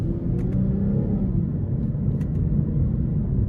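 A 2023 Lexus IS 350 F-Sport in sport mode gives a steady, low engine rumble under cabin road noise while driving with paddle shifting, with no distinct rev spikes and no speech.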